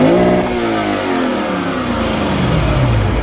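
A Lexus IS 500 V8 revving hard in Sport Plus mode, loud and close, its note rising and falling in one sustained, throaty blast, with no talking.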